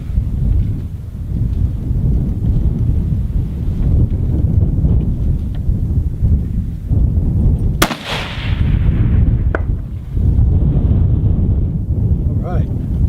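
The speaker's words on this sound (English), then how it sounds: "Okay, starting to get windy out there." Outdoor wind buffets the microphone in a deep, continuous rumble at a long-range rifle shooting spot, with a single sharp gunshot crack cutting through partway along.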